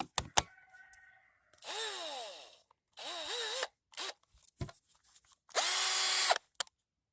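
A Black & Decker 20-volt cordless drill whirs up in three separate bursts, each rising and falling in pitch, the last one louder and steadier, with small clicks and handling noises between them.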